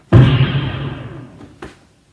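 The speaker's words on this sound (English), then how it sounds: "You can hear that little gunshot, which I found here." A single sharp, punchy gunshot bang with a booming tail that rings out and fades, followed by a faint click.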